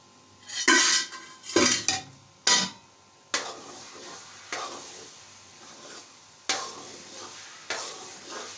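Grated carrot halwa roasting in a pan, stirred hard with a metal spoon: a run of loud clanking scrapes against the pan at first, then gentler scraping strokes over a soft frying hiss, close by and without talk.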